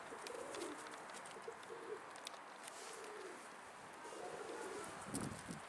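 Pigeons cooing close by in soft, repeated throaty phrases over a steady outdoor background, with faint rustling and a few small clicks.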